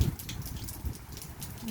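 Rain falling on a foggy, cold day among vineyards and plum trees in Cyprus: a soft, steady patter with scattered close drops, with no one talking.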